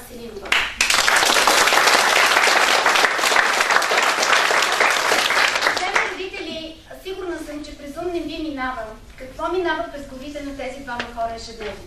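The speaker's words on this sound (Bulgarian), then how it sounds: "Искам аплодисменти за всичките колеги." Audience applause for teachers at a school graduation ceremony, dense loud clapping for about six seconds that then fades as a speaker talks into a microphone.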